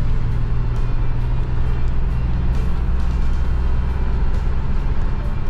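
A Hino XZU710L light truck, a Japan-spec 156-horsepower empty chassis cab, holds steady at around 1500 RPM. The engine gives a loud, continuous low rumble with an even drone throughout.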